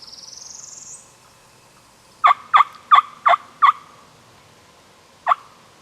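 A series of five quick wild turkey gobbles rings out in a burst in Kentucky, followed after a pause by one more, sounding somewhat distant across open ground.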